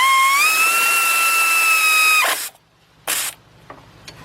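Power tool whirring steadily for about two seconds as it tightens a 14 millimeter brake caliper bolt on a Nissan Altima or Maxima rear brake, then stopping, followed by a brief burst of hiss and a few faint clicks.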